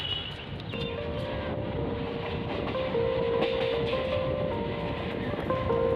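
A Garia to Canning local passenger train runs steadily with a constant rumble, rhythmic clatter of wheels and a faint tonal hum, heard from inside.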